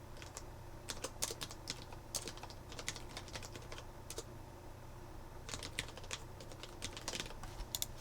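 Rapid, uneven keystrokes on a computer keyboard, clicking in short bursts with brief pauses, close and fairly quiet with no talking.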